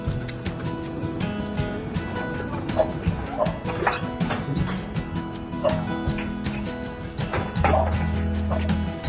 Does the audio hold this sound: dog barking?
yes